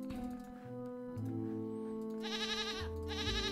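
Goat bleating in the video game Rusty Lake Paradise, two wavering bleats in the latter half, moderately loud over a droning musical background.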